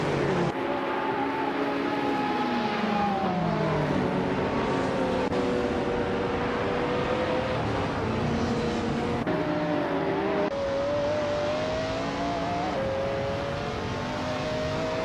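Racing engines in a nonstop race featuring a 1997 McLaren F1 GTR Longtail, a steady high whine that rises and falls as gears shift, with several cars droning together continuously and loudly throughout.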